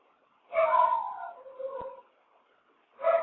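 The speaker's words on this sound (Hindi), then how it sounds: "आजकल कुत्ते जो हैं काफी भौंक रहे हैं इस पर।" Dogs outdoors give a few drawn-out, howling barks in two bursts separated by a pause, moderately distant and heard alone without talk.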